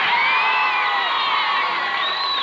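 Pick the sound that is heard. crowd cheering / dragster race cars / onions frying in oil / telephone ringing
crowd cheering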